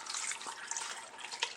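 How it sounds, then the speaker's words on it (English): Water pours steadily from a tap into a pressure cooker holding fruit centres for marmalade, a continuous close splashing stream without talk. "I'm just going to add a little bit of water."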